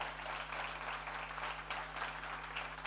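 An audience at an inter-school general knowledge quiz final claps for a qualifying team, a dense, steady round of applause heard alone under a faint electrical hum.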